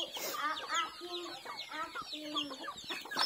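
A hen clucks repeatedly at close range in short, rising and falling phrases, with faint background noise between calls.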